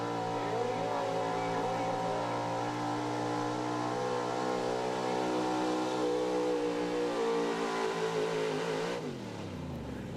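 A big block high output 4x4 truck roars at full load during a truck pull, a loud sustained engine drone with a steady rising pitch that drops off sharply near the end, with no talk over it.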